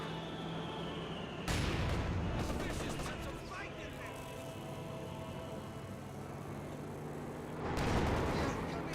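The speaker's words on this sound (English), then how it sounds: "Panzer IV gets a good shot there on the conscripts" Panzer IV tank cannon fire in the game Company of Heroes 2, two loud broadband booms about six seconds apart over a continuous din of battle noise and gunfire, with commentary running underneath.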